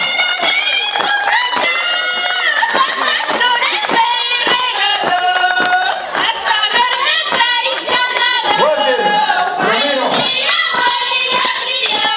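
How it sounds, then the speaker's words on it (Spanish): An audience claps along at a huaylias dance performance celebrating a band's fourth anniversary. Steady rhythmic hand claps run throughout, mixed with loud festive music and voices. "Aplaudan por favor"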